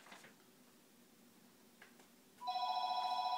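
Electronic telephone ringing on a set, a steady repeated tone that starts abruptly partway through and continues loudly after a few faint background noises.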